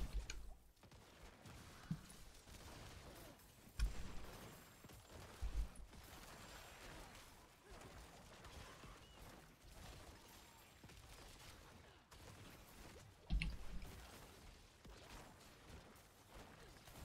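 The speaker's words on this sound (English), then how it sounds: "So many explosions." Necromancer explosions burst in quick succession during Diablo 4 play, with sharp booms and crashing hits over a steady bed of game noise and occasional faint voice.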